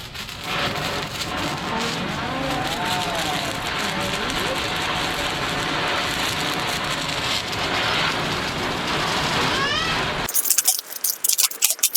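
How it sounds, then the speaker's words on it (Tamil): A Sivakasi ground spinner firework, a sangu chakram, whirls on the ground with a steady hissing, crackling spray. It stays loud for about ten seconds, then stops abruptly and is followed by sharp clatter. "அடுத்து நம்ம சங்கு சக்கரம் வச்சு பார்க்கலாம்"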